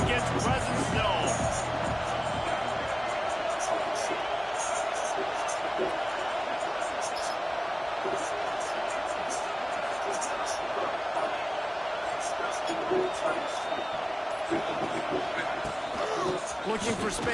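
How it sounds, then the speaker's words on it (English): A stadium crowd roars in the College Football 26 video game during a Florida versus Texas matchup, a steady dense wash of cheering noise that holds throughout while commentators talk over it. "This crowd ready to make its presence known."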